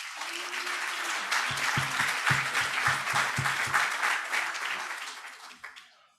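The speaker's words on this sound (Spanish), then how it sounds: "Un fuerte aplauso para ellos dos." A conference audience at a talk on wills, inheritance and taxes breaks into sustained applause for two speakers, a dense wash of clapping from a room full of people that holds steady and then tapers off near the end.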